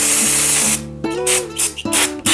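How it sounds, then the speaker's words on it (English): Degreaser sprayed onto parts from a vintage 1983 Trek mountain bike on a workbench: a close hissing burst is followed by short whirring, mechanical bursts, with no voices. "I'm just gonna do a little preemptive degreasing before I throw all this stuff in the parts washer"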